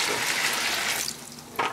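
Measured water pours onto sawdust pellets for a mushroom fruiting block in a loud splashing stream that tapers off after about a second, followed by a brief final splash.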